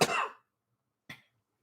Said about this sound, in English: I'm still kind of coughing from being sick from COVID